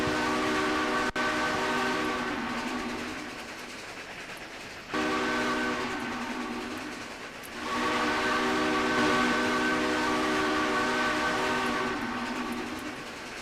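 A Daylight steam locomotive running in the train game Trainz, with a steady rhythmic chuff and a harmonic whistle-like tone that surges, dips briefly, then swells again, loud and close.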